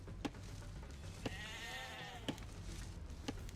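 Several sheep bleat in Age of Empires II, a run of wavering calls in the middle of the clip over steady game background, with sharp periodic clicks throughout.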